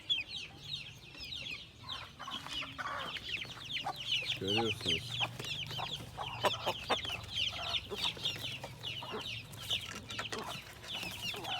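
Chickens and small chicks cluck and peep steadily on a farm, hens close by with chirping chicks throughout, while someone talks over them.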